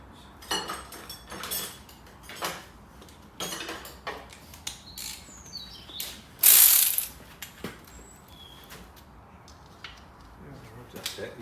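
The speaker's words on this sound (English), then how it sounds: "There's the ratchet. I'm going to pop it just back on here." A ratchet wrench at work on a 2016 Mercedes Citan repair, giving bursts of clicking with pauses between them, close and fairly loud, with people talking nearby.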